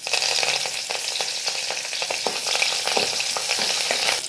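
Curry leaves go into hot coconut oil with shallots and sizzle loudly and steadily, with a few stirring scrapes over the constant crackle and no voices.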